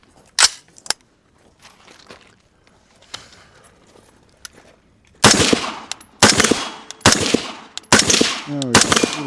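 A Knight's Armament rifle fires at an outdoor shooting range. Faint, scattered shots come first, then a rapid series of five loud, sharp, close reports with echoing tails.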